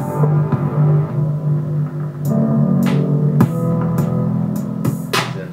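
Marching band music from a classical record, slowed and pitched down to a deep, murky drone with low sustained tones and occasional sharp crackling transients, heard alone without talk.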